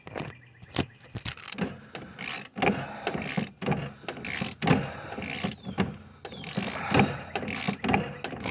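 A ratchet wrench works a nut loose at the bottom of the steering shaft on a John Deere LA115 riding mower, with close, repeated clicking strokes in irregular bursts and brief pauses between swings.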